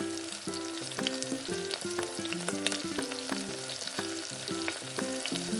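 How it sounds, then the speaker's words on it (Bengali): Spinach sautés with oil and onions in a pan, a steady, close sizzle with faint stirring and no talking throughout. "শাকটাকে কষিয়ে নেব।"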